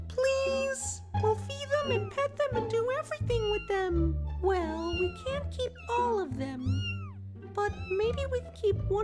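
A mother cat and kittens meow repeatedly in high, rising and falling cries, overlapping close by in an animated story, with low background tones and voices in between.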